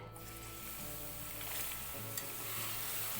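Adadiya pak mixture in a pan being stirred just after milk is added, giving a steady soft sizzle with a faint scraping stir and no voices.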